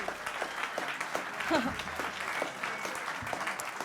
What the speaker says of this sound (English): Can we please have a round of applause for our comedy debaters?